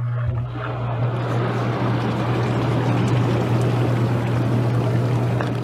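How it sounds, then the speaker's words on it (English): Hot tub jets running loud and steady with a low motor hum under a dense rush and churn of water while a chemical is poured in, continuous and close. "I'm gonna turn the jets on first and then pour this in."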